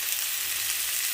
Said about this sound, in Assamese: এতিয়া আমি পিঁয়াজখিনি অকণমান ভাজা হৈ গৈছে